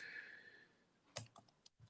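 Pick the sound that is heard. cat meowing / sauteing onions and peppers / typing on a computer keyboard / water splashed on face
typing on a computer keyboard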